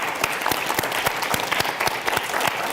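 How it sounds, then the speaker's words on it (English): Conference audience applauding a panel, steady fast clapping from many hands at moderate level, no talk over it. "let's give them a big round of applause"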